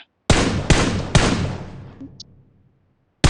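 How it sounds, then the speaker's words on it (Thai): Three sharp, loud gunshots in PUBG Mobile crack in quick succession, each trailing off into a fading echo, followed by a brief pause and the start of another. "กูได้ยินแต่เสียงปืนอะแต่กูไม่เห็นตัวน่ะ"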